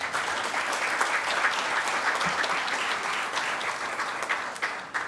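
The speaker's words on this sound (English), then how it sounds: "please join me once again in welcoming Mr. Nikhil Sharma with a big round of applause" Lecture hall audience clapping to welcome a business leadership speaker, a loud, sustained wash of applause from a large crowd, even and unbroken with no talk over it.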